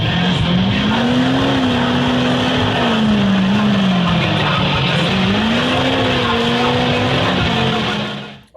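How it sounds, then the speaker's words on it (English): The Twisted Metal Performance mega truck roars loudly through a truck tug of war, its engine pitch rising and falling in a sustained, strained drone before cutting off abruptly at the end. "Our buddy Frank Bagwell, he used to drive the Twisted Metal Performance mega truck"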